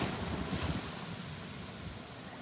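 Ocean water washing and churning around someone in the sea at a beach, a steady broadband rush with wind buffeting the microphone and low rumbling swells, close and continuous without distinct breaks.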